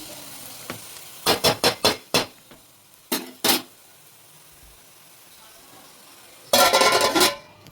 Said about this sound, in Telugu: నెమ్మదిగా అది వేగుతూ ఉంటుంది, దాని మట్టుగా వేగుతూ ఉంటుంది